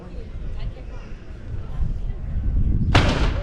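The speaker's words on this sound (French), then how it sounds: "on est devant le canon, le 1 o'clock gun." The One O'Clock Gun in Edinburgh fires once, a sharp cannon boom near the end of the clip that cuts through crowd noise and people talking.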